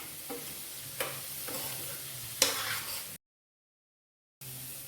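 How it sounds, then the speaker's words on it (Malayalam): Papaya thoran with grated coconut stirred in a pan, a soft sizzle with a few sharp spoon scrapes, then a short silent gap before the quiet frying resumes. "നന്നായിട്ടൊന്ന് ഇളക്കി കൊടുക്കാം"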